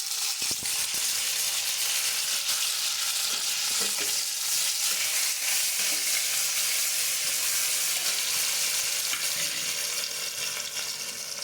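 Chopped capsicum and tomato hit a pan of frying ghugni, setting off a loud, dense, continuous sizzle close by, with a few soft scrapes of stirring underneath and no speech.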